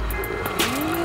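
A MiniMotors Speedway Mini 4 Pro electric kickscooter with front and rear suspension rides along with a steady, fairly loud motor whine that rises in pitch near the end, with brief road knocks and wind.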